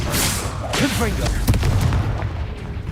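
A Confringo spell blast from the Hogwarts Legacy video game, a booming explosive burst with a rumbling tail, heard over a steady game soundscape with voices talking in the background.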